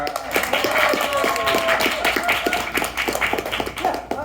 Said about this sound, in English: And clap your hands if you've been here before.